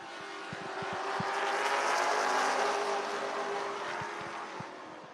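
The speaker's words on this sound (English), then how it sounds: "Chris Story is sitting in that 4th spot trying to chase down the 52" Super late model race cars roar around Wisconsin International Raceway, a sustained engine drone that swells as the pack passes and then fades, heard from a distance with no voices.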